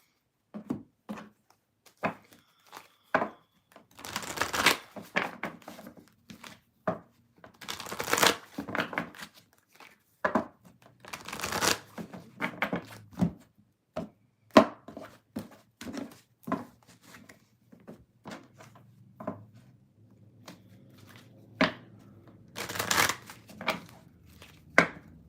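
Tarot cards are shuffled by hand in irregular bursts of soft riffling, tapping and thudding against a surface, close by and moderately loud, with quiet pauses between.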